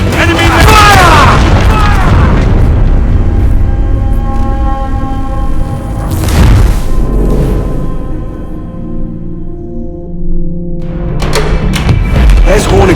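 Heavy cannon fire booms in an Assassin's Creed Black Flag naval battle, with loud deep blasts and rumbling thuds layered with shouted voices and crashing effects.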